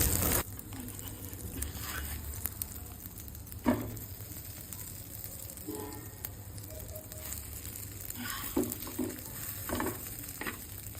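Bread slices frying in a pan with egg, onion and green chilli for egg toast give a soft, steady sizzle close by, with occasional scrapes and light taps of a spatula throughout.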